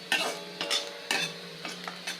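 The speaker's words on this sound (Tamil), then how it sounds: "நான் இப்போ இது வந்து தேங்காய் எண்ணெயில் தான் வறுக்கிறேன், தேங்காய் எண்ணெய் விட்டு வறுக்கிறேன் நான்" Spices frying in coconut oil in a pan for a Tamil festival kuzhambu, with a steady close sizzle broken by several short scraping stirs of a spoon.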